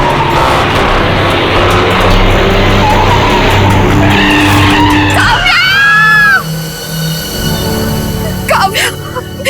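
Tires squeal as a car skids hard to a stop in a TV drama scene, a loud screeching slide with a rising whine, followed by shouting and quieter street noise.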